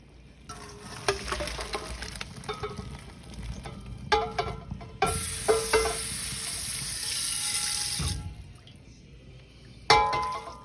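Cooked Brussels sprouts being drained from a pot, the water splashing and rushing hard for several seconds before falling away, with clattering pan knocks and sizzle-like hiss around it, close and fairly loud with no talking.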